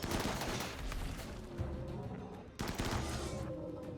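Gunfire aimed at a turret during a mech raid in the video game RimWorld: rapid bursts of shots with a couple of heavier thuds, sustained and fairly quiet throughout.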